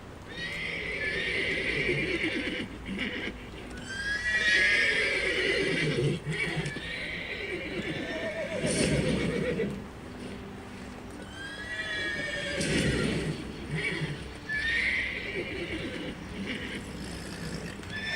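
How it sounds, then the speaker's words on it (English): Several horses whinny and neigh repeatedly in The Witcher 3, with loud, close calls rising and falling over clopping hooves and a busy ambient background. "Gotta calm all the horses before they wake the guards."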